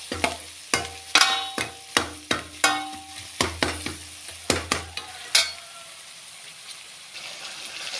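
Onion and capsicum frying in a pan with turmeric and chili powder, with a steady sizzle under a series of sharp, regular stirring scrapes close by that stop toward the end.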